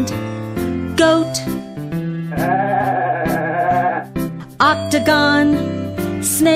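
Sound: goat bleating

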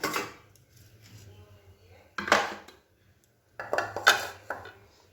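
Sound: making milk tea with pots and utensils

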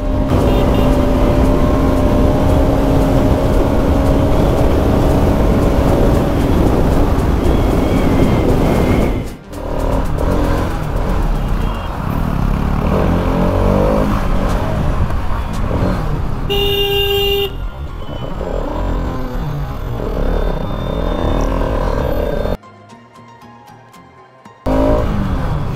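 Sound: motorcycles racing at full power, Yamaha V4 and RS200

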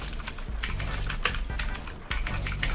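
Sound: typing on a gaming keyboard while playing Fortnite

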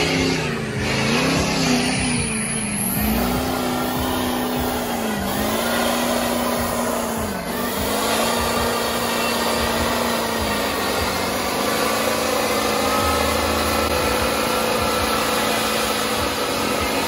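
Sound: truck engine revving under full throttle

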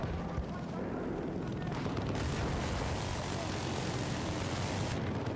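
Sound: helicopter approaching in video game Battlefield 4

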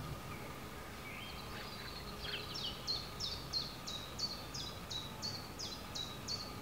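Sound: chiffchaff warbler singing

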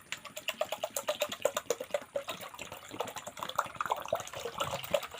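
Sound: vinegar being poured into salt

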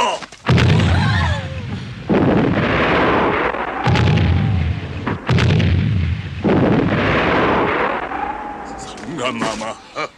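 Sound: cannon fire volley

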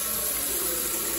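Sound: bucket being filled with water from a tap

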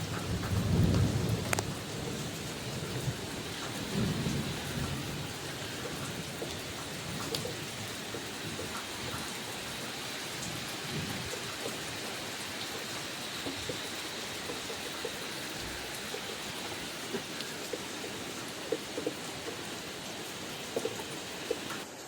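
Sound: heavy rain pouring with thunder

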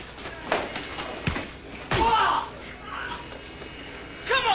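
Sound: fridge door banging against head in film stunt

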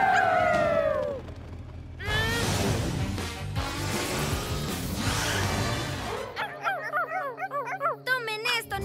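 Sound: cartoon dogs howling

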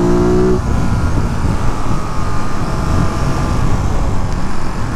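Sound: passing car traffic

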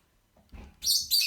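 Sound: young bird chirping

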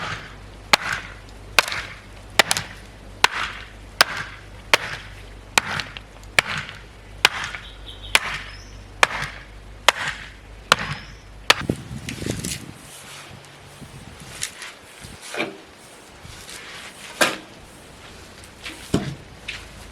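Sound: tapping gravel level for a bird bath

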